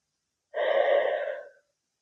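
A deep breath is drawn during an intense shoulder stretch in a strength and mobility yoga flow. It is a single loud, breathy inhale lasting about a second, close and alone, with silence before and after.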